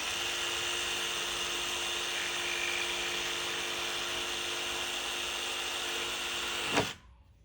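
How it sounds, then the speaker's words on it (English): A jigsaw cuts out a front contour in wood, buzzing steadily and loud for nearly seven seconds before stopping abruptly, leaving near silence. "Take it to the jigsaw, cut that out."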